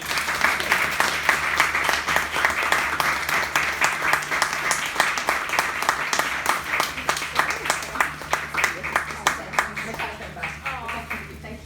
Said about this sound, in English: So just one more round of applause for Lydia and for Victoria